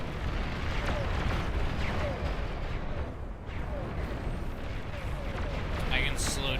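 Plasma cannons firing in the strategy game Beyond All Reason, a dense continuous barrage of booming blasts and rumbling impacts filling the whole clip, with a voice talking over it.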